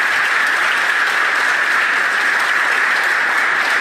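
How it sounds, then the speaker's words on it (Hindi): A ceremony audience applauds steadily at an awards and felicitation event at a girls' B.Ed college, a dense, even wash of many hands clapping at full volume throughout, with no voices above it. "सर के लिए जोरदार तालियों से सबका स्वागत है।"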